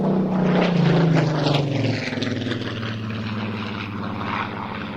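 A Supermarine Spitfire flies with its engine droning loud and continuous, strongest early and then easing slightly as it passes, with nothing else heard.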